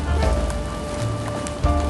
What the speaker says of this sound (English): Getting rain on my camera.